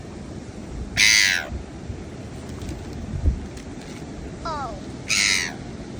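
Seagulls squabble over food on a beach, giving two loud, harsh calls a few seconds apart over a steady background wash, with a brief exclamation from a nearby person.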